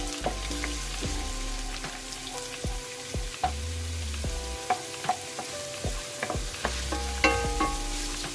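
Ginger frying in a pan for creamy sopas, with repeated scraping stirs of a utensil over a steady close sizzle, the knocks coming at irregular intervals.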